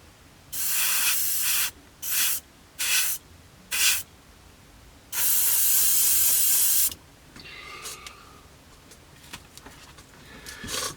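Airbrush spraying a thick coat of red paint onto a 1/48 scale Hobby 2000 P-40N Warhawk model: several short hissing bursts, then one long steady spray, followed by faint rustling handling sounds.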